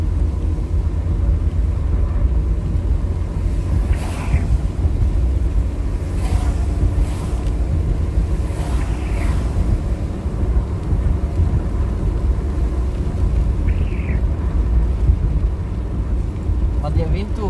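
Steady broadband wind rumble during a thunderstorm fills the whole stretch, with voices talking intermittently over it.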